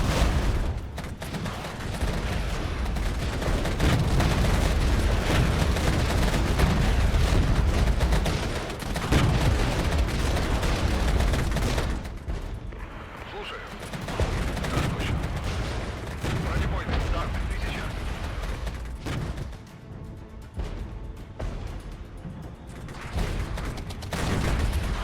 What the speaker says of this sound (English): That's a lot of artillery coming in.